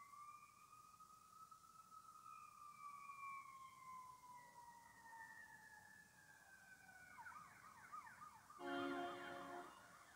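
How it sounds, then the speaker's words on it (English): A wailing siren sweeps slowly up and down in pitch, moderately distant, joined briefly near the end by a louder burst of clanging tones. "The bells, whistles, sirens"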